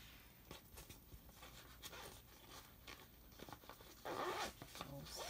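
An interior zipper on a mesh bag is pulled open in a few quick scratchy runs, close and fairly quiet, with a louder burst near the end and soft rustling between.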